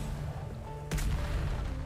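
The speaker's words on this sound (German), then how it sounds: "Kanonen laden. Und dann gibt's einen kleinen Feuertest" A ship's cannon fires in the pirate video game Atlas: one sudden heavy boom lands partway through, then a rumbling roar lingers over a steady low background hum. No one speaks.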